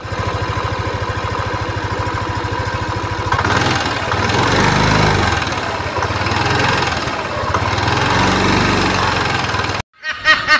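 A Yamaha motorcycle engine runs steadily for about ten seconds, a loud rough mid-pitched idle with some swelling revs, then cuts off abruptly near the end.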